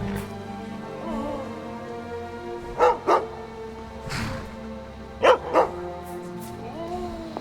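A dog in the modded Skyrim video game barks in short paired yelps, repeated twice, mid-distance over a droning game ambience with some vocal sounds.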